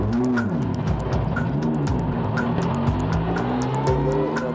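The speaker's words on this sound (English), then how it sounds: "then you just use the throttle out and go." A race car's engine roars up loudly and close as it launches, its pitch climbing and sweeping through rapid gear-like surges of acceleration.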